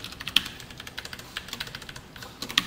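Typing on a computer keyboard during a MariaDB SQL lesson: a run of light, irregular key clicks at moderate level with a couple of sharper strikes, no voice over it.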